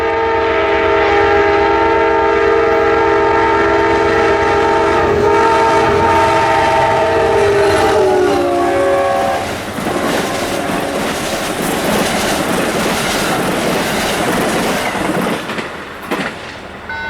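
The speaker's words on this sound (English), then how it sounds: "Amtrak 15 came screaming southbound with a good engineer buddy of mine as he takes the Northeast Regional Train number 147 southbound to Roanoke." Amtrak Northeast Regional passenger train number 147 running southbound at about 79 mph, its horn blaring loudly in long sustained tones before giving way to a roaring rush of wheels and cars passing close by.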